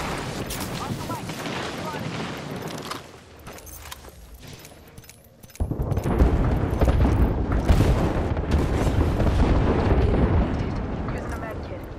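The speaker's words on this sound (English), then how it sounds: "Heads up. We've got an airstrike." Airstrike explosions in a video game, with heavy rumbling blasts that drop to a quieter lull before a loud, sustained barrage of booms erupts, under occasional voices.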